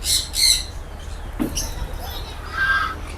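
Parrots of various kinds squawk and screech in short harsh bursts at a busy Mumbai pet market, with scattered calls near and far over a steady crowd murmur.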